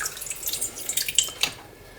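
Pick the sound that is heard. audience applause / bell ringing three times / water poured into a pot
water poured into a pot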